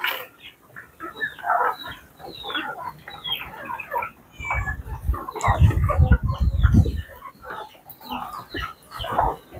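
Ducks feed beside their drinking water on a farm, with busy clucking and quacking calls throughout and a burst of low dabbling and shuffling in the middle, no talk.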